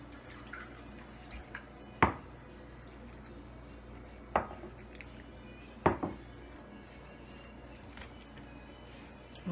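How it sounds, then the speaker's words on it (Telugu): Ragi idli batter gets mixed with curd and water in a bowl, a quiet wet squishing and stirring punctuated by three distinct clinks of a spoon against the rim. "బాగా మిక్స్ చేసుకుందాం. దీంట్లో కొంచెం వాటర్ కూడా వేసుకుందాం."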